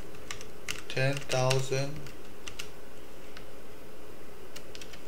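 Typing on a computer keyboard while writing Python code in a Jupyter notebook: scattered, fairly quiet key clicks spread across the stretch, with a short burst of speech near the start.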